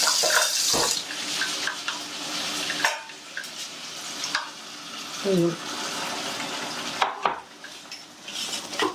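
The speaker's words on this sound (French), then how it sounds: "On va mettre de l'eau." Water poured into a tajine pot while cooking prune and minced-meat meatball tajine with mushrooms: a steady, close splashing rush with scattered clinks of cookware.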